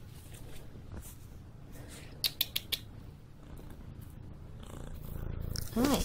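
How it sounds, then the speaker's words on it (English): Soft, low, continuous purring from a cat close to the mic, with a few quick scratchy clicks in the middle and a brief high squeak near the end. "Oh, loving the kitty."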